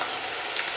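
Chopped onion frying in a hot pan for butter chicken, a dense, even sizzle with a crackly, rain-like texture, close and steady throughout with no voices.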